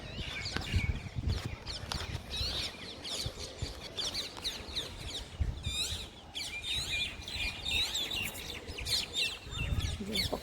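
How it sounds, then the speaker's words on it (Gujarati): Birds chirp and call repeatedly outdoors on a breezy day where monkeys sit on solar panels and a parrot perches on a pole, bright tweets scattered throughout over wind and background noise. "પક્ષીઓ કેટલા ફાઇન ફાઇન ઉડી રહ્યા છે."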